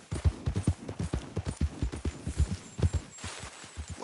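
Horse hooves in Red Dead Redemption 2 beat out a quick, steady rhythmic clip-clop, close and fairly soft, with no talking over them.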